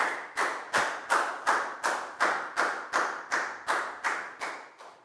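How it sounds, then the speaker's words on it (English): About a dozen loud, evenly spaced claps ring out close by, like a small class in a Year 4 maths lesson applauding a student in a slow, steady rhythm. "High five and a big round of applause for Pat"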